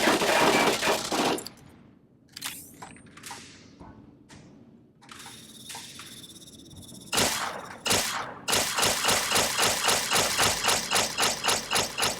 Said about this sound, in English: So many people shooting at me